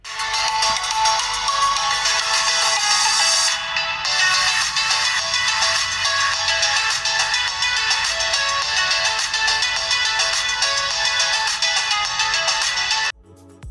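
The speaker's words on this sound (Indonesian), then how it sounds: "kurang lebih kayak gini lah hasil keluaran dari speakernya" A smartphone's bottom speaker plays a loud, bright, continuous music track with a thin, trebly tone and little bass. It stops abruptly near the end.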